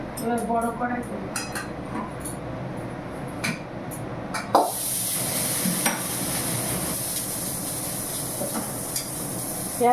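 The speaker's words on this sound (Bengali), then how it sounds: "বেগুন মটরশুঁটি একসাথে দিয়ে ভাজবো।" Eggplant and peas frying together in a large wok, with a steady sizzle, stirring scrapes and occasional clinks of the utensil throughout. Someone talks faintly in the background.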